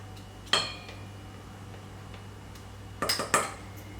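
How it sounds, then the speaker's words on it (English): A spatula working room-temperature butter in a bowl, a few sharp clinks and scrapes against the bowl, one early and a quick cluster near the end, close over a steady low hum. "I'm going to start whipping my butter so it becomes nice and creamy and light in color."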